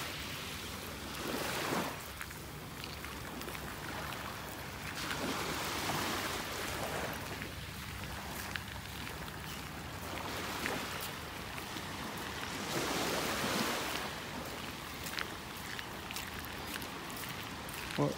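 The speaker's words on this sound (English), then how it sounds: "on this beach right here, on this section of beach" Surf rolls onto a beach in North Naples, Florida on a morning shoreline walk, a steady broadband wash that swells and recedes every few seconds, with wind noise and faint footsteps close by.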